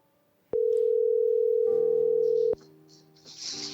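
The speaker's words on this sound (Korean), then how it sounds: "먼저 전화로 연결해 보겠습니다." Telephone dial tone: a single loud, steady electronic tone held for about two seconds, then cut off and followed by faint connection noise as a call is placed.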